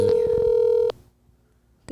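A phone rings on an outgoing call, a steady electronic ringback tone that holds for about a second, cuts off and is followed by near silence and a short click.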